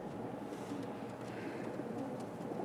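Pigeons cooing in a steady, low murmur beneath a continuous backdrop of ambient room noise, the soft coos blending together rather than standing out as distinct calls.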